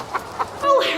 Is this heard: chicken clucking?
yes